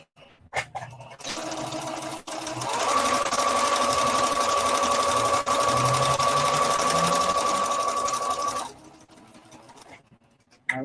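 A sewing machine back stitches and then runs a seam on a scuba knit skater skirt, a steady close mechanical whir with a clear tone that holds for several seconds, with brief starts and stops at either end.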